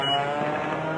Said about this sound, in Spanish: Mira, se metió el carro, ¿eh?